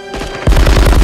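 Burst of rapid movie gunfire, a rhythmic string of loud heavy shots like a cannon, hammering out after a brief quieter lead-in; alone, no talk.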